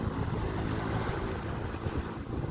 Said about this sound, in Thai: ที่นี่ชายหาดปากเมงครับ